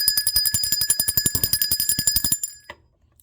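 A bell rings rapidly and repeatedly for about two and a half seconds, bright and metallic like an alarm bell, then stops with a brief ringing tail.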